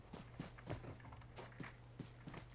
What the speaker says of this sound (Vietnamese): nghe tiếng bước chân này